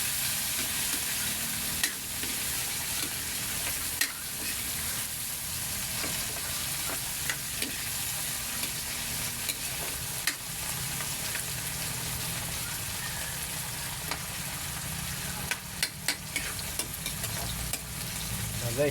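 Chopped tomatoes fry in hot oil in a home kitchen pan, a dense, continuous sizzle broken by frequent scrapes and clicks of stirring, close and fairly loud throughout.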